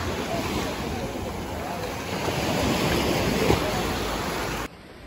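Sea waves wash up on Baga Beach, Goa at night, a steady broad roar of surf with some wind, fairly loud and close, swelling slightly before cutting off abruptly near the end.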